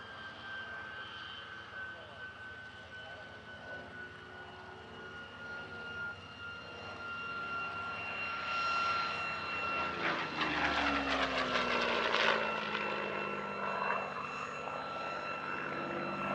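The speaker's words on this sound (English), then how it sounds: "the P-40F was one of 2 Warhawk variants to be fitted with a Packard-built Merlin" A P-40F Warhawk's Packard-built Merlin engine drones steadily, swelling louder toward the middle as it passes nearby at an air show, then easing slightly, with a faint voice underneath.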